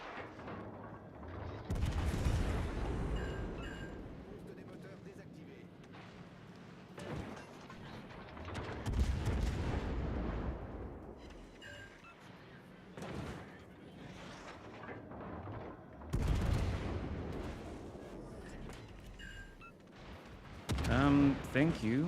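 Naval gunfire in World of Warships: Legends, several heavy booming salvos spaced out over time, each with a rumbling decay between quieter stretches of game background, moderately loud.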